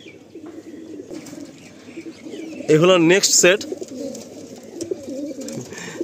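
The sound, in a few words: pigeons cooing at a pigeon sale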